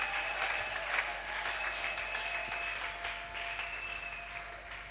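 A church congregation applauds during a French-language service, a steady, moderately distant wash of clapping that continues evenly, with faint voices mixed in.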